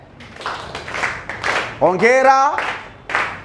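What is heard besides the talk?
class clapping hands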